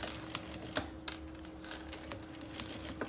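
A sewing machine stitches a zipper seam on a fabric pencil case, giving a close, steady run of light mechanical ticks over a low motor hum, with no talking.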